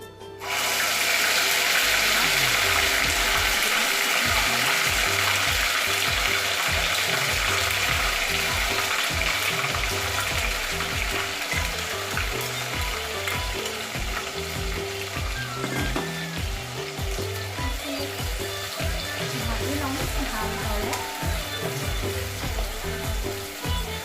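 Onion paste for chole frying in a pan: a loud, steady sizzle across the whole span, with repeated scraping and stirring knocks from about two seconds on and no voices.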